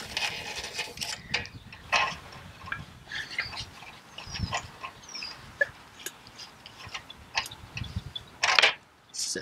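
Fuel canister screwed onto a Primus Tupike camping stove, with scattered near clicks, scrapes and light metallic handling sounds through the clip and a sharper burst of contact noise near the end.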